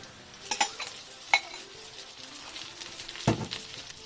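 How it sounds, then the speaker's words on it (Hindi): Garlic lightly sautéed in a pan for a beef and vegetable stir fry: a faint, soft sizzle runs under a few sharp spoon-on-pan clicks and stirring scrapes. "गार्लिक डालेंगे, हल्का सा सौते करेंगे।"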